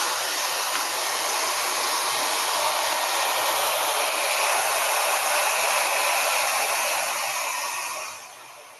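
Hair dryer fitted with a diffuser, set to low heat and high airflow, blows a loud, steady broadband whoosh for about eight seconds before easing off at the end, with no talking.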